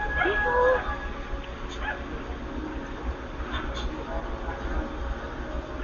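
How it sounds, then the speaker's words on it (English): A dog barks and whimpers in a video playing back, giving a few yips and whines over a low background hum, with faint voices around it. "Oh no, that's a dog."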